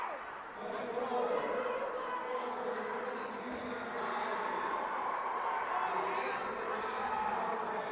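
Crowd at a boys' high school hockey game in an arena, a broad steady roar of many voices filling the space, with an announcer speaking over it.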